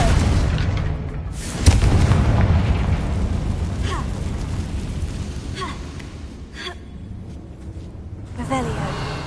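A Confringo spell explosion from the video game Hogwarts Legacy lands as one sudden booming burst, followed by a rumbling blast and a few fainter magical crackles over steady game ambience.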